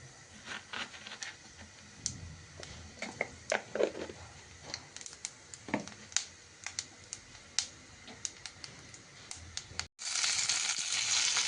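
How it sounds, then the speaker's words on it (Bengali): Panch phoron spices crackle and pop in hot oil in a wok while cooking cauliflower-stem chorchori, scattered sharp close ticks and spits, then a sudden loud, dense hiss of frying takes over near the end. "তেলটা গরম হয়ে উঠেছে, পাঁচফোড়ন সম্বরা দিয়ে দিলাম।"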